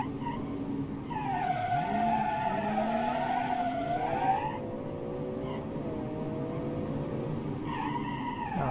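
A heavy, luxurious car in a racing video game drifts through a corner, tires squealing in long wavering skids over a steady engine drone.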